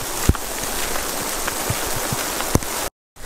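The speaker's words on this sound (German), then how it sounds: "Es hagelt, es regnet." Hail and rain fall outdoors in a dense, steady hiss, with scattered sharp ticks and a few louder nearby impacts, close and fairly loud, then a brief dropout near the end.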